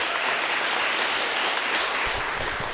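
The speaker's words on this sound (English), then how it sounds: "Give her a round of applause" A crowd at a community respect initiative celebration applauds continuously, a dense even wash of clapping held at steady loudness throughout.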